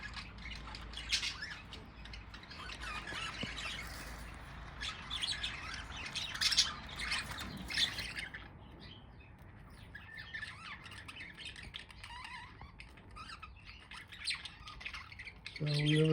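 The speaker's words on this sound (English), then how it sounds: "So they're just roosting high in they're still working out their pecking order." Caged budgies roosting high and sorting out their pecking order squawk and chirp in busy overlapping bursts, louder early on and thinning later, with a voice talking quietly at times.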